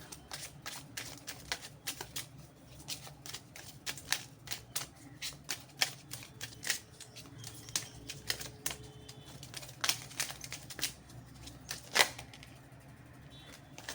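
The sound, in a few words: tarot cards being shuffled and drawn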